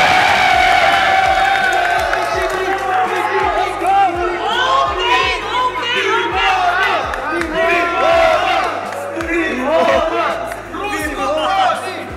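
A live comedy-battle audience in the Philippines cheers, whoops and claps loudly, a dense continuous crowd roar with shouted voices rising and falling throughout, close and full.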